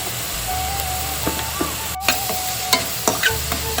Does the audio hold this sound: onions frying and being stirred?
yes